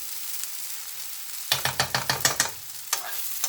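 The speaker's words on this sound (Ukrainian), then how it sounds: "Баклажани теж помішую." Repeated scraping stirs of eggplant in a sizzling pan, a quick run of rhythmic strokes over steady frying hiss, close up, then a pause and a few more.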